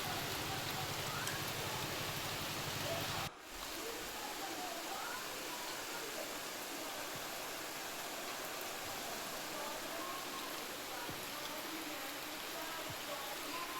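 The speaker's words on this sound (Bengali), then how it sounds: "বৃষ্টি পড়ছে তো গরমটা একটু কম হবে ভাবলাম কিন্তু না" Rain falls on a hot day in a steady, even hiss that runs throughout, soft and diffuse, with a brief dip in sound early on and no clear voices.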